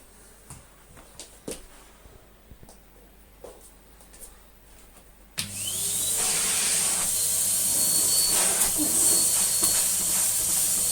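A bagless Numatic Hetty HET200 vacuum cleaner, found discarded, starts up halfway through with a sudden loud steady whooshing roar and hiss after a stretch of quiet handling knocks.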